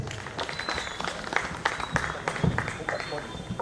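An audience at a government scheme event at a village school in Bhavnagar applauds steadily, a dense patter of clapping from a crowd, fairly distant and continuous throughout.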